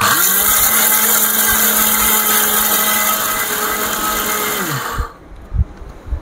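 An Orpat electric blender runs at steady high speed with a loud, constant whirring motor drone for about five seconds, then winds down and stops, leaving a few soft knocks and handling noises.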